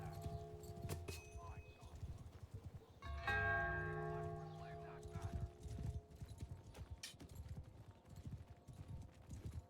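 Rhythmic clip-clop of galloping horse hooves in a medieval-style video game battle, steady hoofbeats with a brief louder swell of clashing and bell-like ringing, commentators talking over it throughout.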